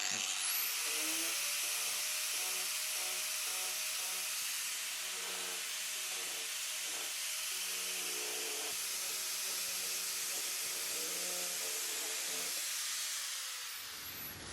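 An Arbortech TURBO Shaft power carver cuts into wood with a high, hissing whine that holds steady and close for about fourteen seconds, then winds down at the end.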